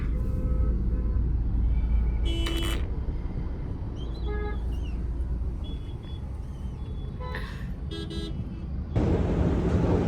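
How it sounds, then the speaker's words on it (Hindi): Jaipur street traffic hums with a steady roadway rumble as car horns toot in short bursts, several honks close by over continuous engine noise, with faint talk in the background. "जयपुर का ट्रैफिक"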